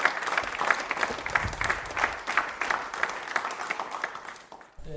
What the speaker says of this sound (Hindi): तालियां एक बार अपने लिए बजाइए आप।